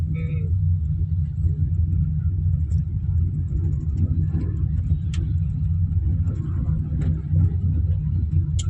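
Steady low engine and road rumble from inside a car cruising on a highway, continuous and fairly loud throughout with a few faint clicks and rattles above the drone.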